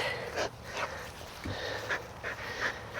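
A dog pants rhythmically during jump training, quick close breaths repeating at a steady pace over faint outdoor background noise.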